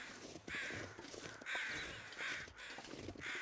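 A crow repeatedly caws in the wintry wilderness of The Long Dark, four raspy calls in a loose rhythm, clear and prominent above a constant breezy background.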